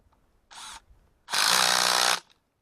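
A power tool drives a bolt home while fitting a wiper motor on a 1990s Lincoln Town Car: a short whirring burst, a brief pause, then a longer, louder run of about a second, close and alone with no talk.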